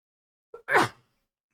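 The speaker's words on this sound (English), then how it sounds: "Sneeze ASMR." A single close, loud sneeze: a short intake of breath, then one sharp burst that fades quickly into silence.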